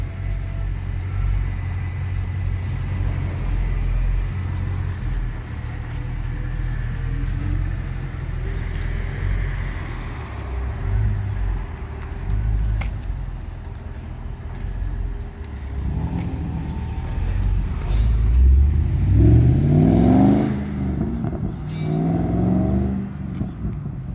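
An HSV R8 Maloo V8 with a twin 3-inch stainless steel mandrel cat-back exhaust burbles at low speed, a steady, deep rumble that swells briefly into a rev near the end.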